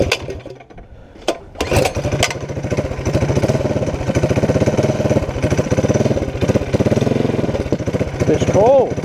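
A Tillotson 212 engine with the governor deleted, fitted to a CT200u-EX minibike on a test run: starts with a few sharp knocks, then a close, loud, steady putter that rises and falls, ending in a brief whine.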